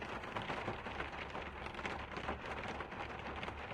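Steady rain falls without a break, a dense even hiss of drops pattering on surfaces at moderate loudness, with no voices present.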